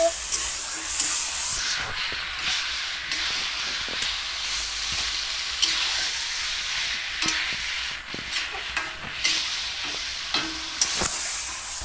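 Pieces of spicy red chicken are stirred while frying in a pan for a kosha curry, giving a steady close sizzle and hiss. Scraping and clacking from the stirring utensil breaks through at irregular intervals.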